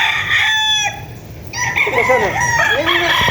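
Several roosters crow at a poultry farm in Pampanga where buyers are choosing chickens, one long crow first and then overlapping crows from other birds after a pause, loud and close with clucking fowl around.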